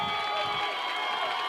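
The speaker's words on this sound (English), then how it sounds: "really the Purvis crowd has come to life for the first time tonight" A baseball crowd at a high school playoff game in Purvis cheers steadily with a broad, continuous roar, sustained and fairly loud throughout.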